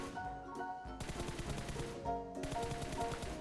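Gunfire in a mobile shooter game, rapid automatic bursts of shots with short breaks, loud and continuous over game background sound, no voices.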